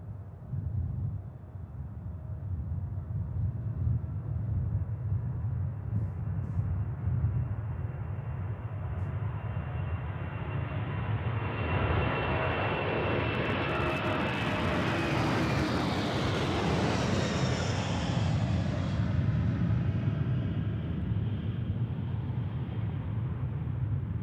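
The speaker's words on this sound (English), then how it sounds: "Here comes another 747-400." A Boeing 747-400 passes with a long swelling jet roar that grows from a distant rumble to a loud broadband rush and whine, then holds steady.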